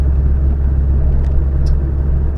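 Vauxhall Astra engine rumbling steadily on a drive, a loud continuous low drone with faint road noise and no talk.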